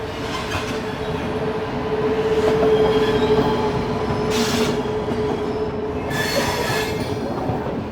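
An Indian passenger train rolls along the rails with a loud, steady rumble inside the coach, a sustained metallic wheel squeal running through it and brief brighter screeches near the end.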